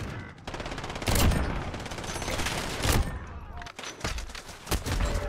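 Bursts of video game gunfire crackle in several loud volleys, with sharp broadband cracks near one second, three seconds and four seconds over a busy, continuous backdrop of game noise.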